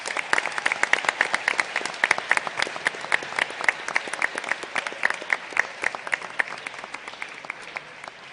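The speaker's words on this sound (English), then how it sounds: "Another round of applause for our CELA Biliteracy students." Sustained applause from an audience at a school board meeting honoring biliteracy students, dense steady clapping from many hands throughout, fairly close and even in loudness.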